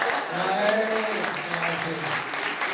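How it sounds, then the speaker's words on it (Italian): Applause rings out from the audience at a lyric concert of arias and romances at the Pertini in Jesolo, steady and moderately loud under a speaking voice. "anche a lei un applauso, grazie."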